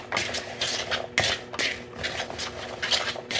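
A spoon clinks and scrapes against a bowl while a plant-based snack mixture is stirred, producing repeated close, bright metallic knocks in an uneven rhythm with no talk.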